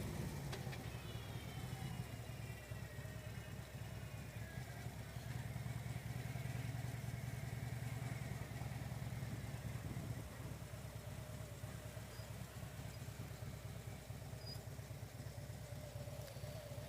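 A motorcycle engine idles steadily in first gear beside Bass Lake in Holly Springs, North Carolina, a faint low continuous rumble with a constant background hiss and no talk.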